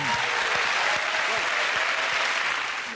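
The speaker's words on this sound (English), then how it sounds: "we have that round of applause for Francis" Studio audience applause for a panellist on a live comedy panel show, a dense, steady clatter of many hands that holds at full strength for about three seconds before easing slightly at the end.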